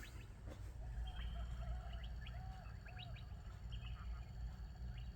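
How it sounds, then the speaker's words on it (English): Faint, scattered recorded bird chirps and tweets play from an N scale model railroad layout, repeating over a steady low hum, with no talking. "I got my birds attached back to come on when I turn the layout on."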